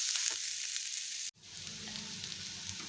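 Ginger and garlic sautéing on low heat for a mushroom dish, a soft bright sizzle that cuts out abruptly and resumes as a quieter, steady frying hiss close by.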